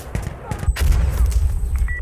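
Grenade blast in Insurgency Sandstorm, thrown into a doorway during a firefight: a few sharp shots lead into a heavy booming explosion whose low rumble lingers, with voices talking briefly over the game sounds.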